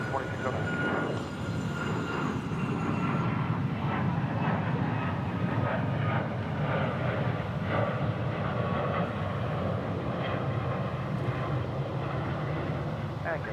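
Jet airliner taking off from runway 36 right at DFW airport, a steady broad engine roar holding loud and even throughout, with faint radio chatter woven underneath.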